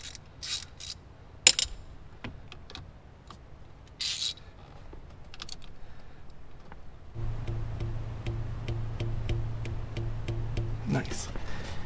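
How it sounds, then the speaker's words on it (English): Torque wrench tightening bolts during a Ferrari 360 timing belt service, sharp clicks and ratcheting bursts scattered through quiet workshop air, then a steady mechanical hum sets in for the later part. "So we're going to tighten that thing down."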